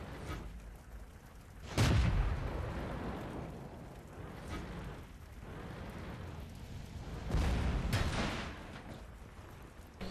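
Heavy tank cannon fire in World of Tanks, with an Easy 8 Sherman in the fight: two deep booming shots about six seconds apart, loud and close, over a constant low rumbling engine and battlefield drone.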